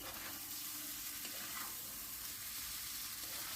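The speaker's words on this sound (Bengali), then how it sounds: "আবার একটু ভালো করে নাড়াচাড়া করে মিশিয়ে নিতে হবে।" Potato curry with a spoonful of sugar being stirred in a frying pan on a gas stove, giving a steady close sizzle with faint scraping throughout, no talking.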